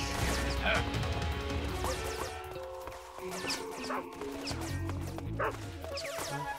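Dogs bark and yip during a Metal Gear Solid 3 game scene, several sharp barks over a busy background of crashes, thuds and game ambience, fairly quiet overall.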